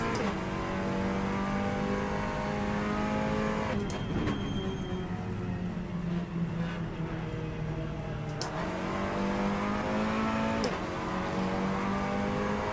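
Front-wheel drive race car engine in a sim racing game, a steady loud drone that rises in pitch through the gears, with two clear shift drops and revs climbing again, heard alone with no talk.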